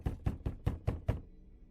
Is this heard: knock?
yes